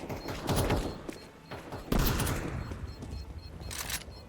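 Rapid bursts of AK rifle fire in Counter-Strike 2 crack out close and loud, with a heavy volley near the start and another just before two seconds, then trailing shots under a steady din.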